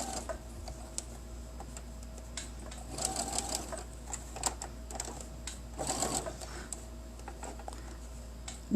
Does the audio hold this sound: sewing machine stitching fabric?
yes